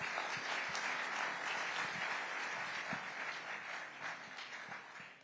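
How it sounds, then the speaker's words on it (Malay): A large audience breaks into a standing ovation, sustained dense applause that holds steady for several seconds, tapering slightly toward the end, with faint voices mixed into the crowd. "Anda berdua benar-benar layak menerima tepukan gemuruh"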